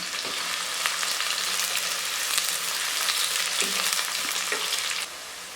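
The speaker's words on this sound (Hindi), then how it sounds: "तो अब हम इसको फ्राई कर लेंगे" Long-sliced onions frying in a pan for an aloo mooli salan, a steady bright sizzle with occasional stirring scrapes, close and continuous with no talk.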